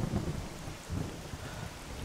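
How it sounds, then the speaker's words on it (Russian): Heavy rain pours and thunder rumbles in the survival video game Misery 2.0, a loud, dense downpour with low booming rolls that swell and fade throughout. "у меня почему-то сильно орет, так скажем, дождь. Просто прям гремит."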